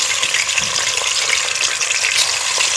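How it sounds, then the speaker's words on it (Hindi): Chicken fries loudly in a karahi pan, a dense continuous sizzle close up with faint stirring scrapes underneath. "इसको अच्छे से सारा चिकन डाल के ना हल्का सा 5 मिनट तक फ्राई करेंगे"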